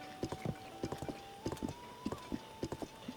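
A horse's hooves clip-clop in short paired bursts in Tears of the Kingdom, close and fairly clear over a faint steady tone.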